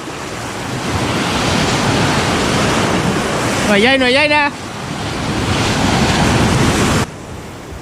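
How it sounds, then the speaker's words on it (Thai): Sea waves surge and crash against rocks on the coast, a loud, continuous roar of surf with wind noise, and a man briefly calls out over the water midway. "คลื่นแรงขึ้นเรื่อยๆแล้ว"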